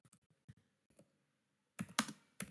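Keys on a computer keyboard are tapped in a few sparse, quiet clicks, then a quick, louder burst of typing near the end.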